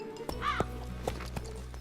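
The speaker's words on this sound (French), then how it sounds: "Ton cheval n'arrête pas de gêner Pepper" A cartoon horse in an animated series whinnies once with a wavering neigh, over a background of steady hooves and ambient music-like tones, close and moderately loud.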